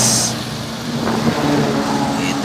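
A Sampri (PT Samosir Pribumi) bus engine roars steadily close by, holding a strong, continuous drone as it overtakes a truck and pulls away with rising power.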